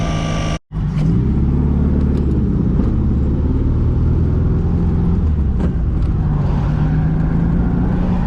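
A classic Volkswagen Beetle engine runs close and loud with a steady low throbbing rumble, idling evenly after a brief cut at the start.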